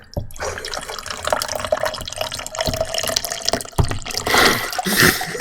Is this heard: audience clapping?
no